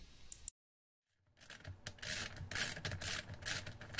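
Screw being turned by hand on a sump pump cover in a basement, a close scraping, rubbing thread sound that starts after a short pause and continues in repeated gritty strokes.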